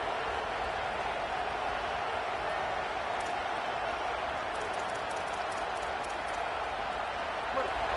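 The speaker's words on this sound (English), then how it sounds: "This crowd trying to make life miserable for this offense." A stadium crowd in the College Football 27 video game keeps up a steady, dense roar throughout, faint and broad, with a few scattered claps near the middle.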